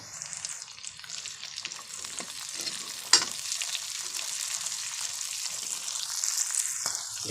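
Onion, ginger, garlic and green peas frying in a pan, a steady close sizzle and crackle with brief stirring scrapes, one sharp clatter near the middle.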